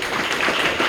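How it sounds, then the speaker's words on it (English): Audience applause at an awards dinner and fundraiser, a steady dense patter of many hands clapping together, fairly loud and continuous without a break. "they deserve a round of applause for that."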